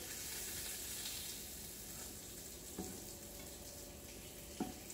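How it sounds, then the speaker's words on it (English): Oil sizzles steadily in a pan as food fries down until crispy for a vegetarian, gluten-free avocado melt sandwich. The hiss is soft and continuous, with a couple of brief, sharper crackles near the end. "You're going to fry these down so they're crispy."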